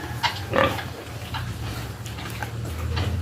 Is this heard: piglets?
yes